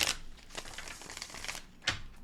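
Tarot cards shuffled by hand, a burst of crinkly riffling at the start, soft scuffing through the middle and another sharp riffle near the end, close and fairly quiet with no talking.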